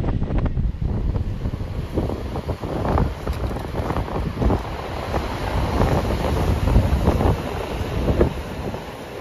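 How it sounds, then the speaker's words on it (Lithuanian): Steady wind roars and buffets the microphone on a breezy beach, a dense, unbroken rush with low rumbling gusts and no voices. "vėjuota, kaip ir visur"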